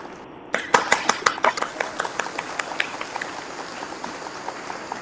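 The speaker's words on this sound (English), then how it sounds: "I need to give you applause there on that one." Applause for a singer at a live singing show, starting abruptly after a brief pause as scattered, crisp claps that stay fairly sparse and even, with a faint voice underneath.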